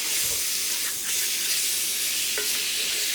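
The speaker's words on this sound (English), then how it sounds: "Now we get to just fry this up." Chicken sizzles and fries steadily in a hot pan for a chow mein stir fry, a continuous close hiss with no one speaking.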